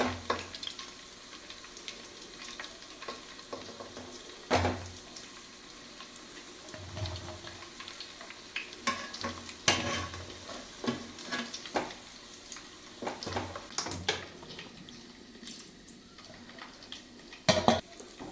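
Tuna pieces fry in oil for a Kerala-style homemade fish pickle, a quiet sizzle broken by metal ladle and pot clatter and occasional scraping knocks, fairly close with no talking.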